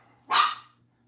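One short, sharp dog bark, close and loud, rising out of near silence and fading quickly.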